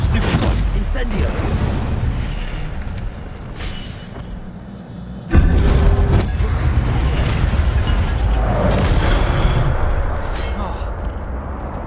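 An Incendio fire spell is cast in Hogwarts Legacy, a loud booming whoosh that erupts midway and sustains as a dense roaring rush over busy combat noise and a continuous game background.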